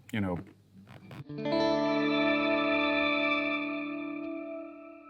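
A brief voice comes first, then an octaver effect inside a reverb plugin, turned all the way up, swells into a dense sustained chord-like wash that holds for several seconds before thinning out.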